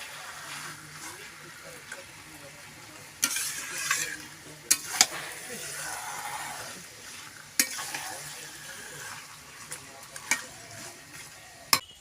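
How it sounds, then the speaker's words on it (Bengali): Chicken meat frying and being stirred in a pan at an outdoor Christmas picnic, a soft continuous sizzle broken by sharp scraping strokes and spoon clinks at irregular intervals, with faint voices in the background. "এই দেখো মাসিমণি মাংস রান্না করছে, চিকেন"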